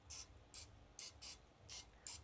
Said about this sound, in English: You're gonna spray a little bit with some oil here.